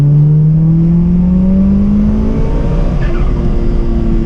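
Mitsubishi Lancer at full throttle on a track, its engine note climbing loud and close through a gear, then dropping briefly before rising again with a steady, strained drone.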